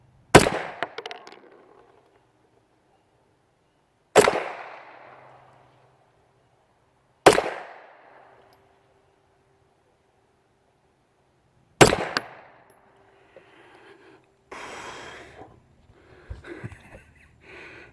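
Four loud, sharp shots from a Rock Island Armory 1911 9mm pistol firing unique-powder handloads outdoors, spaced several seconds apart, each with a fading echo, followed by faint handling noises.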